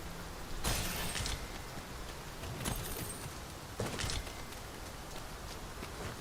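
Rain falls in the video game Dragon's Dogma 2, a faint, steady hiss of rainfall broken by a few brighter splashy bursts, heard without any talking.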